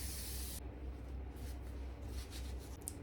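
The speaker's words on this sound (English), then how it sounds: "I'm using spray-on glue" Spray-on glue hisses from a can onto waterproof tablecloth fabric for a cushion, one close burst at the start followed by faint, short rubbing and spraying sounds.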